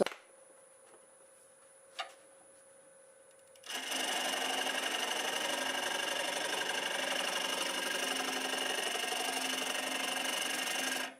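A wood lathe spins a black locust blank in reverse at about 700 RPM, starting with a quiet motor hum and a single tick, then a loud, steady, dense whirring and chattering cut that runs unbroken to the end.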